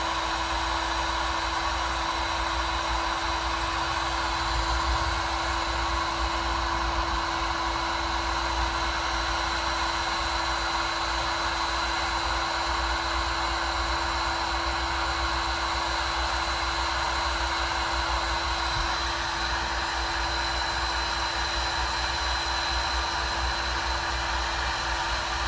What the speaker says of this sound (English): This is where you're gonna take your heat gun and you're just gonna heat it up.